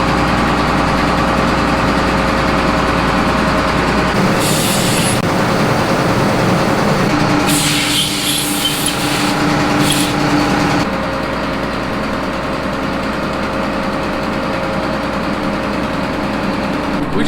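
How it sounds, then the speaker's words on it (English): A combine harvester's engine runs steadily and loudly at close range as the machine is backed out of a barn, a constant droning hum with a few brief higher mechanical bursts midway. "just got the harvester pulled out of the shop"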